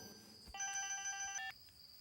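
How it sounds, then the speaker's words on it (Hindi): A telephone rings in a dramatic movie scene. One short burst of electronic ringing cuts in and then stops, with no voices over it. "फोन बज रहा है।"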